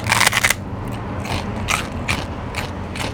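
Close, crisp crunching from biting fried pork skin chicharrones, a loud burst of crackles at first, then several softer crunches spaced apart.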